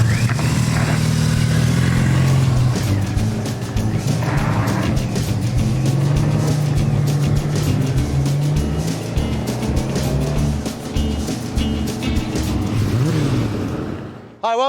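A snowmobile engine runs loud and close in Johnson Village, Colorado, a continuous rough motor drone with fluctuating revs for about fifteen seconds before cutting off abruptly.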